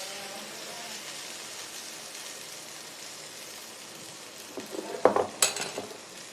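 Salted eggplant pieces fry in a pan with a soft, steady sizzle, then a spoon stirs them with close, clattering scrapes and knocks near the end.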